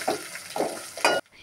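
Cumin, black cumin and bay leaves sizzle in hot oil while being stirred, three short scraping stirs over a steady close frying hiss that cuts off abruptly near the end.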